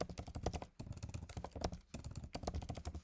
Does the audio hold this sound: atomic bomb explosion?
no